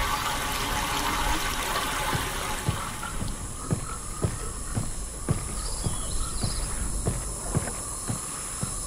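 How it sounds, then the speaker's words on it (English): Water gushes and flows through channels in the video game Myst, a broad rushing wash that fades after a few seconds into a quieter trickle, with regular insect-like clicks chirping in the background. "Now we're getting the water to this side."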